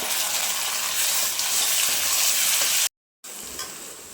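Onions, ginger-garlic and tomatoes fry in a pan for a Kerala-style pork varattiyathu, a steady loud sizzle with stirring that cuts out briefly near the end, then resumes.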